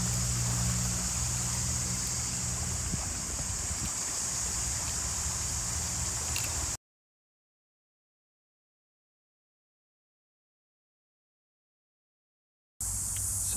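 Overland floodwater runs in small rivulets across a low-lying park beside Kedron Brook, a steady broadband rush and trickle with some wind. The flow is continuous for about seven seconds, drops to silence, then returns briefly at the end.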